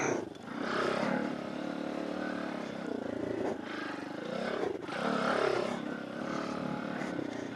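Tao Tao DBX1 dirt bike riding, with a steady engine drone and wind rush that holds continuously, swelling slightly at times, heard up close from the rider.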